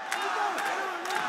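Arena crowd at an IFC 19 MMA fight cheering and shouting in support of a fighter, a dense continuous roar of many voices throughout.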